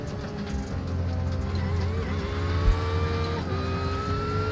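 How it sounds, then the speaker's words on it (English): A Porsche flat-six racing at Tsukuba circuit, its engine droning with steady harmonic tones that rise and fall through gear changes, with another car audible close by, no talk. "The Porsche is great because the Boxer 6 sounds way better than the V6 or the inline 6."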